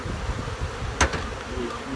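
A continuous close buzz of honey bees swarming over an open hive during an inspection, with a brief sharp knock near the middle.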